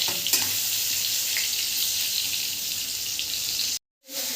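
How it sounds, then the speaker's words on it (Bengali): Eggplant slices frying in hot oil give a steady, dense sizzle with faint crackles, broken by a brief dropout near the end before the hiss resumes. "বেগুনগুলো তেলে দিয়ে দিয়েছি অলরেডি এই বেগুনগুলোকে ভালো করে একটু ভেজে নেব"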